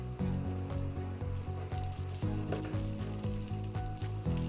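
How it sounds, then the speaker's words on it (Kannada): Peanuts and garlic frying in hot oil, a loud, dense, continuous sizzle with crackling pops, close up and uninterrupted. "ಕಡಲೆಕಾಯಿ ಬೀಜ ಎಲ್ಲ ಫ್ರೈ ಆದಮೇಲೆ ಬೆಳ್ಳುಳ್ಳಿ ಹಾಕಿ ಸ್ವಲ್ಪ ಫ್ರೈ ಮಾಡ್ಕೋಬೇಕು"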